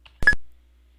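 A short electronic beep sounds as Enter is pressed in Wilcom 9.0 embroidery software on a computer. It is a single clean tone after a faint click, alone in silence.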